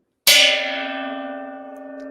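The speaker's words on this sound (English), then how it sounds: "I did a special gong hit for that. That was the rim of the gong." A gong struck once on its rim gives a sudden bright metallic clang that settles into a long, steady ringing shimmer of sustained tones, loud and alone, fading only slightly over two seconds.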